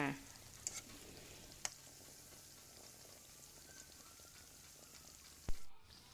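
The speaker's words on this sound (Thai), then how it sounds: "ช่วงที่เราทอดกล้วยอยู่นะคะ อย่าให้กล้วยของเราติดก้นกระทะค่ะ" Banana pieces deep-frying in a wok of oil, a steady soft sizzle throughout with a few scattered clinks and a louder utensil knock near the end; no talking.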